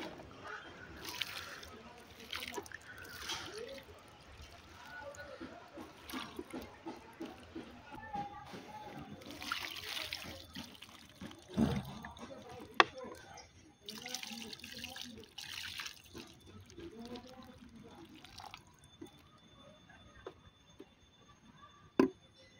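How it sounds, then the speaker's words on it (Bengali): Water is poured over the soil in a custard apple plant pot, making soft splashing and trickling close by in uneven bursts, with some handling noise. "জল দিয়ে পুরো মাটিটা ভিজিয়ে দেবো।"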